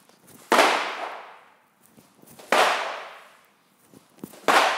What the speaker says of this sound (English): Think of a pendulum swing coming up, maybe a bit of a slam coming down in conjunction with dropping the hip back.